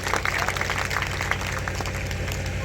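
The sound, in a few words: audience applause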